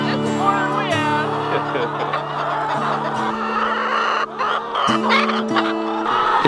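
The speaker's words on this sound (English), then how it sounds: "How's it feel being around this many chickens?" A large flock of pastured chickens on a farm, clucking and cackling continuously in overlapping calls, with a rooster-like rising call near the start and a dense, close chorus throughout.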